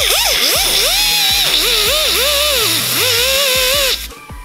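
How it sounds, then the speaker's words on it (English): A power sander works on a car dash, giving a loud close continuous whine whose pitch wavers up and down with pressure, then cuts out near the end. "Now it's time to do some sanding."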